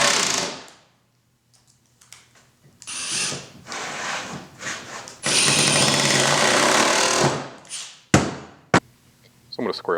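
Power drill driving long screws into a wooden table-saw jig for making dowels, several loud bursts of whirring and ratcheting in a workshop, separated by pauses with a voice talking between them.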